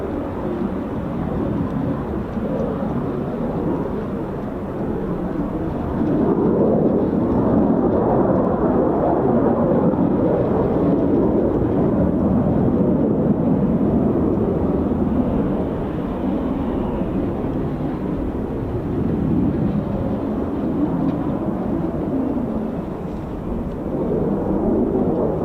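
Jet aircraft, an F-18 flying a display at RAF Fairford during Royal International Air Tattoo arrivals, roars steadily at moderate distance, swelling louder for a stretch midway then settling back into a broad continuous rumble with no talk.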